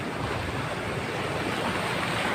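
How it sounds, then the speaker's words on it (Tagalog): Strong irrigation water rushes in a steady, dense flow, a constant close roar of churning current with no pauses or voices over it. "Grabe lang ang agos"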